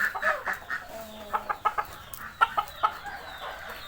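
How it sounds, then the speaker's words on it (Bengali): Farmyard chickens cluck in short, uneven bursts, a few close and fairly loud, with other fowl calling softly around them in a rural village yard. "টাইগার মুরগির পরিবার"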